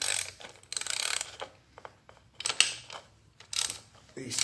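A wrench working the valve cover nuts on a Ferguson TEA20 tractor, giving repeated short ratcheting clicks and metallic taps in bursts, close and fairly quiet.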